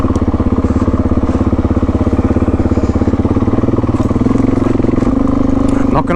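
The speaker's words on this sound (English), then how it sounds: "my bike is making some very, very unfriendly sounds" Adventure motorcycle engine running rough with a steady loud drone and a rattling, clattering undertone throughout, close and continuous, during a hot trail ride.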